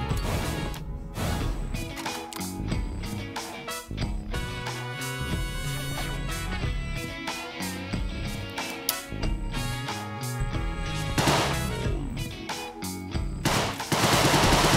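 Gunfire in the video game Deadbolt: rapid, dense bursts of shots crowd together over a tonal game soundtrack, loud and nearly continuous.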